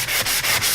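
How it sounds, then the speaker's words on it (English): Rhythmic back-and-forth sanding on painted wood, a dry hissing rasp repeating about every fifth of a second, close up and with no voices. "And you sand as much or as little as you want."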